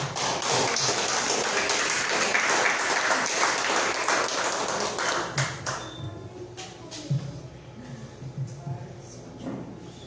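A church congregation applauds during a Spanish-language service, a dense wash of clapping for about six seconds that thins out, with a voice speaking over the tail end.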